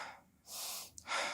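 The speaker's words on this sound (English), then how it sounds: "I'm breathing." A person's breathing, loud and close, with a strong breath, a pause, then a second long breath, no talking.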